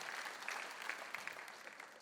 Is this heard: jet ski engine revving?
no